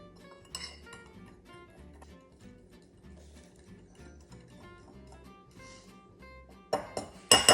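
Batter being mixed in a bowl, soft rhythmic scraping and clinking of a utensil against the bowl in a regular pattern, quiet and close, ending with a few louder clanks.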